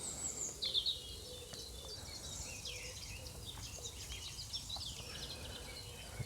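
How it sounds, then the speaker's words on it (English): Faint birdsong chirps and trills drift in from a distance over quiet outdoor ambience at Bushy Coombe, Glastonbury, with a few brief higher calls near the start. "Lovely little spot to come and sit and listen to the birds."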